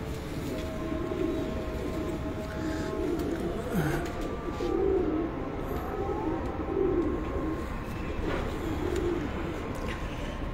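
Breeder pigeons coo on a rooftop in steady, repeated low rolling calls over a constant background rumble, moderately close.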